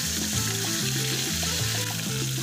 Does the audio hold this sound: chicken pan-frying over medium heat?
yes